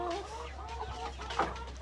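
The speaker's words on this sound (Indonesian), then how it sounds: "Kita lihat ayam Mardi" Mardi chickens in a farm pen give a few soft clucks close by over a low steady hum, with one louder, sharper call near the end.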